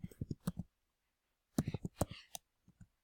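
Computer keyboard keys pressed in two quick bursts of sharp clicks, several taps each, close and fairly loud, with a couple of softer taps trailing at the end and no talking.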